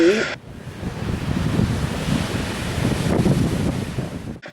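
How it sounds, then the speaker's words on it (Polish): Powerful, dangerous ocean waves crash onto a beach, producing a steady, loud broadband roar of surf mixed with wind noise on the microphone, continuous throughout with no talking. "troszkę szumu, jak fale się rozbijały."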